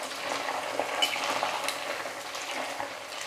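Leftover idli pieces fry and get stirred in a pan, a steady close sizzle with soft scraping stirs running throughout, no voices.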